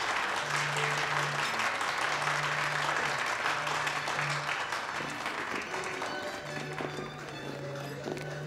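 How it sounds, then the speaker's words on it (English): A round of applause at an evening party, a crowd clapping steadily and briskly at a constant level, with a low hum running underneath for most of the stretch. "let's give a round of applause for the man of the hour, Sergey Belyavsky."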